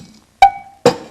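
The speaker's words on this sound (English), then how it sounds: "a cowbell," Two clear metallic strikes on a cowbell, each giving a bright, hollow clank with a short ringing tone, close up with silence between.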